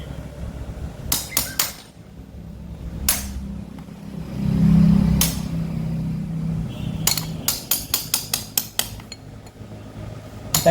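An old lithium battery pack being tapped to knock its cells loose, heard as sharp, close metallic taps, a few sparse ones early, then a rapid cluster near the end, over a low rumbling background.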